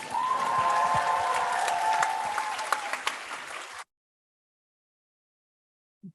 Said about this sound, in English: Can we have another round of applause for them, please?